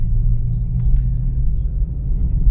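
Steady low engine rumble from a BMW 320i Touring under acceleration, heard from inside the car as a continuous deep drone that holds level throughout.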